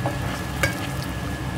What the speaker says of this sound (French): Mélanger, touiller un petit peu.